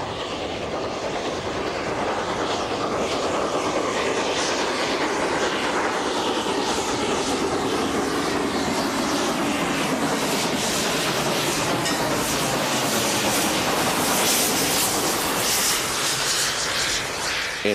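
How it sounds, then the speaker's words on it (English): A steam locomotive train in northern Texas rumbles past loudly and continuously, a broad roaring wash of engine and rail noise that stays strong the whole time. "a train powered by a steam locomotive"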